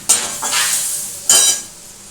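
Bottle gourd and prawn curry with chilli powder, turmeric and sugar being stirred in a pan, with a few loud, close spatula scrapes over a light frying sizzle.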